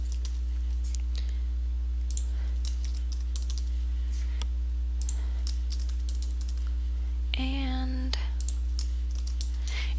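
Keys clatter in quick, irregular bursts of typing close by, over a steady low electrical hum with a brief voice-like sound near the end.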